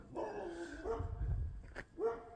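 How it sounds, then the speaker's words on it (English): Several dogs, some of them labs, barking inside a fence on a farm, a few quick sharp barks and yips spread over two seconds, fairly faint and distant, with no talking. "I think I woke up some other puppy dogs."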